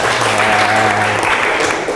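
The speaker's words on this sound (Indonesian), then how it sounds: "Beri tepuk tangan anak-anak." Children in a classroom clap together in a dense burst of applause that continues for about two seconds. A faint voice is heard under the clapping.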